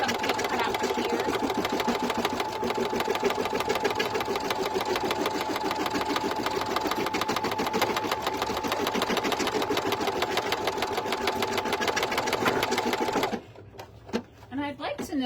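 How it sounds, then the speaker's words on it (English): An embroidery machine sews placement stitches for the ears of an in-the-hoop sleep mask, with a loud, rapid and steady mechanical chatter that runs continuously, then stops near the end, leaving quieter handling sounds. "So these are just our placement stitches for our ears."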